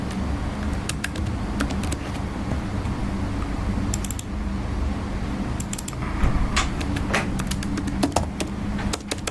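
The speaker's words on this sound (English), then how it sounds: "I'll just go ahead and type under these topics" Keyboard keys are tapped in scattered bursts of clicks at close range while headings are entered into a Microsoft Excel spreadsheet, with a low steady hum beneath.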